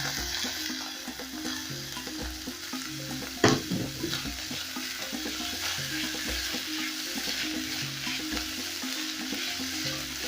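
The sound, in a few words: garlic paste, coriander and capsicum frying for sausage stew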